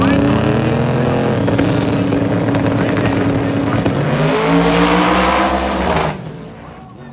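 A loud, roaring radial drag racing car engine revs and howls continuously, its pitch shifting as it passes, then fades slightly at the end.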